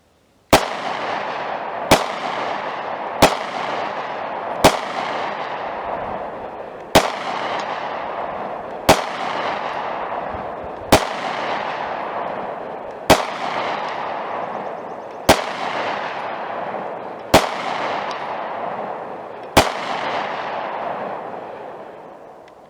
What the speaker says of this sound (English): this is Winchester White Box, 7 yards, Springfield XD Mod 2, 9mm subcompact